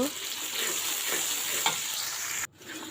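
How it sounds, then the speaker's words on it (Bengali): Onions frying in hot oil with bay leaf and cardamom for pulao give a close, continuous sizzle with faint stirring scrapes, then drop suddenly quieter near the end. "এখন আমি পেঁয়াজ দিয়ে দিচ্ছি ভালোভাবে ভাজা হয়ে গেলে তারপর আদা রসুন দিয়ে দিব"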